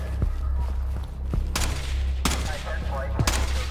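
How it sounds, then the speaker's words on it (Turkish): Gunfire in the tactical shooter Ready or Not, several sharp gunshots in a loose sequence, a few faint distant pops and three louder close bursts, over a steady low background hum with players talking. "Kapıdan sıktı ama vurdum herhalde ben."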